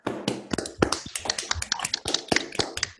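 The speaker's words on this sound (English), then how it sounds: "let's give them a round of applause" Applause in an online meeting, scattered claps and hand taps coming through separate microphones, uneven and overlapping in a steady patter for a few seconds, with no talking.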